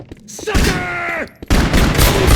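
Gunfire in the video game Max Payne 2, heavy bursts of rapid shots mixed with other game sounds and a voice, dropping briefly before a second dense, loud volley.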